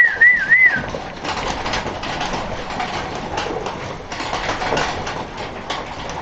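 About thirty pigeons cooing and fluttering close by in a loft, with a short whistle at the start and a steady rustle of many birds moving about.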